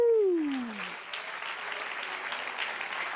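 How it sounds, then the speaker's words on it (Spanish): A congregation applauding during a church sermon, clapping that rises as a tone fades out, then runs on as a steady, moderately loud wash of many hands. "Denle un aplauso al Señor"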